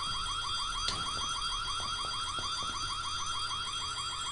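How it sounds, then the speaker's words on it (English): A looping electronic alarm in the horror game White Day, set in a school, wails in a fast repeating warble, loud and steady throughout with faint thuds underneath and no speech. "Alarm, you're fucking annoying."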